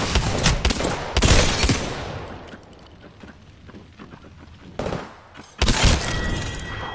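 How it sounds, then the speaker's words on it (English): A thermite grenade is thrown in the shooter game Apex Legends amid combat: loud, close bursts of crackling fire and impacts that fade into a quieter rumbling stretch before two more sharp, dense bursts, no speech. "Throwing thermite grenade."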